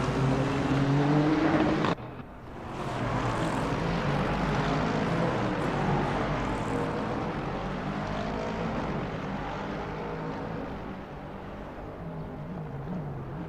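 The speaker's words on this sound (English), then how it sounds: "Downshifting into turn 4" Race car engines roar continuously in a GT3 racing video game at Motegi, a steady loud drone with a sharp cut near two seconds, then sustained engine noise that fades slightly toward the end.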